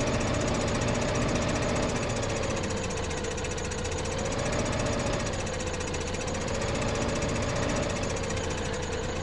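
A tractor engine in the video game Farming Simulator 15 drones continuously at a steady loud level, with a slow wavering rise and fall in pitch and a rough, knocking undertone.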